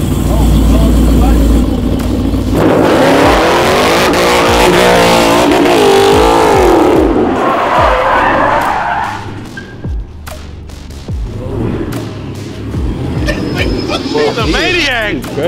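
A 1000 hp SRT Durango sliding, its engine roaring loud and close and its tires skidding, then dropping back to a lower rumble as excited voices shout over it.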